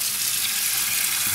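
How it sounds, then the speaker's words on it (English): Water runs steadily from a tap into a small cooking pot as it is filled for boiling fish sticks, giving a constant, close hissing splash with no speech over it. "put some water in it."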